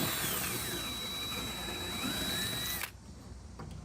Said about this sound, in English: Now you just left with the aluminum rivet, which is a lot easier to drill out